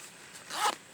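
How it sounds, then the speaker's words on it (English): The ventilation zipper on a motorcycle jacket is pulled open in one quick close rasp lasting about a quarter second, set against quiet room tone. "These zips are ventilation,"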